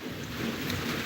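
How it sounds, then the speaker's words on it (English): Steady rain falls with a soft, even hiss and a low rumbling undertone, moderately faint and with no voices. "And now the rain seems like they're about to stop."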